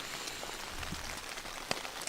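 Light rain falling through the night on a wilderness trail, a faint, quiet patter of scattered drops with one sharper drip near the end.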